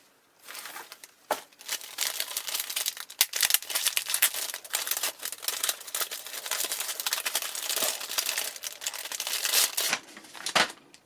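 A paper-wrapped advent calendar gift is unwrapped, with loud, continuous crinkling and tearing of paper, close by and with no talk, ending in a few last rustles.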